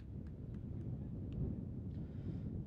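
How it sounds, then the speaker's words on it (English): Outdoor wind gusting across a microphone at a high school baseball game, a continuous low rumbling buffet that swells slightly, with faint distant sounds behind it. "The wind's starting to gust a little bit here."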